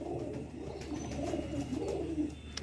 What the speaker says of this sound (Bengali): এবার দেখাচ্ছে একটা লাম্বাড়ি নর পায়রা